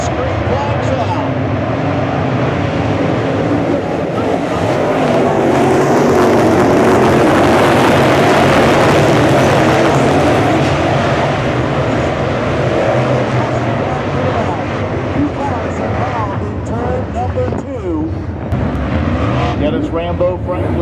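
Dirt late model race cars of the Nesmith Dirt Late Model Series roaring around Bubba Raceway Park, a loud, continuous engine drone that swells and fades as the pack runs, with an announcer talking over it.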